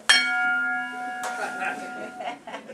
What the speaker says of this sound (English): Just then, the front door bell is heard.